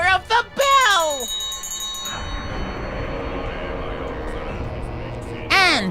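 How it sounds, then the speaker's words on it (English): In the Sam & Max video game, a ritual bell rings once and its shimmering tone fades slowly, framed by chanting voices before and after. "By the power of the bell!"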